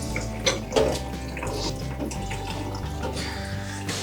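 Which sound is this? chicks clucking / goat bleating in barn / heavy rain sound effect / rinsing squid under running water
rinsing squid under running water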